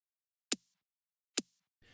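Two sharp, isolated snare-like clicks, short and bright with a quick decay, spaced under a second apart, followed by faint noise at the end.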